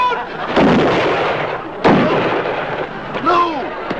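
Gunshots aimed at a bear on a moonlit night in a 1950s comedy TV scene: two loud, sharp blasts about a second apart, each trailing into noisy echo, followed by a shouted voice.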